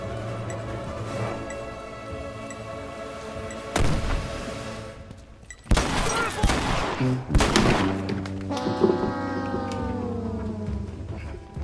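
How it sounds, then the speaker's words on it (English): Shotgun blasts in The Last of Us multiplayer come as a few heavy, sharp booms spaced several seconds apart. Lighter clicks and game noises fill the gaps between them. "shotgun!"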